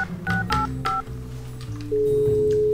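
A telephone number is keyed in on a phone: a quick run of distinct dialing beeps at uneven intervals, ending in a sustained steady tone, close and clear.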